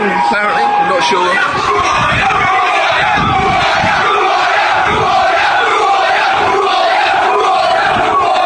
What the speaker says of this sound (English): They're booing now, apparently.